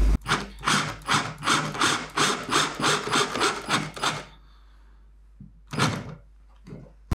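A 3.5 mm screw is driven into raw wood without a pilot hole: a rhythmic, grinding rasp pulses about ten times in quick succession, close and loud, then stops, followed by a couple of short scraping bursts.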